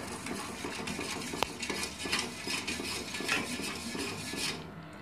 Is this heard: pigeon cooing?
no